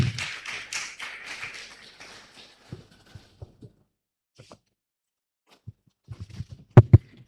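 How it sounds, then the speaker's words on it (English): Brief audience clapping at a youth pre-conference, a short burst of hand claps at the start that fades quickly, then near silence broken by isolated taps and a couple of sharp knocks close by. "Let's clap for him."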